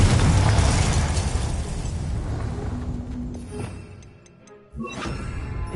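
Confringo spell in Hogwarts Legacy, a loud fiery blast that rumbles and fades over several seconds, then a sharp second burst near the end.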